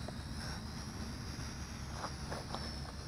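A JJRC H38WH 720P HD FPV camera drone flies at a higher rate, giving a steady, faint propeller whine that holds level throughout with small bumps and no voices.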